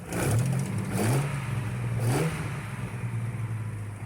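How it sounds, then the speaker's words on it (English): A Chrysler 265 Hemi engine in a Valiant with an exhaust leak idles with a rough, raspy note, and the throttle is blipped three times in quick succession, each rev rising sharply and then settling back. "we'll just give it a couple quick blips on the throttle"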